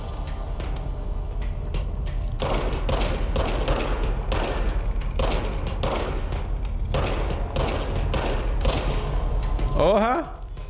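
Bursts of rapid gunfire from the video game Control crack repeatedly, loud and dense in rhythmic volleys, with a voice speaking over the action.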